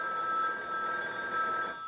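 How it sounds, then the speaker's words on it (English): A home landline telephone rings with a steady electronic trill that fills the moment alone, close and fairly loud, cutting off near the end. "The phone's ringing."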